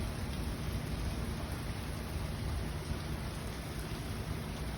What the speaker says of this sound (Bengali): টিনের চালের বৃষ্টির সবচেয়ে শব্দগুলো শুনতে ভালো লাগে